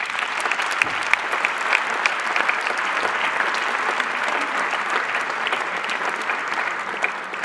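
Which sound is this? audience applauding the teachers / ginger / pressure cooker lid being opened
audience applauding the teachers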